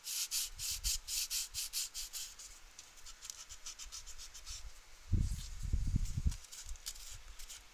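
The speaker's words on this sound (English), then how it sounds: "I'm just sanding it." Dried spackle is sanded by hand in quick, rhythmic back-and-forth strokes, a soft scratchy rubbing that repeats steadily, then pauses and gives way to a brief, heavier bumping.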